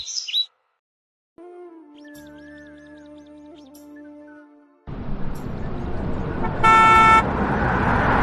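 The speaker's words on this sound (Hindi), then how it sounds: "कुछ दिनों बाद गांव में एक लाल रंग की गाड़ी आती है।" A red car pulls into a village and sounds its horn in a short burst, loud and close, over engine noise, with bird chirps and a musical tone just before.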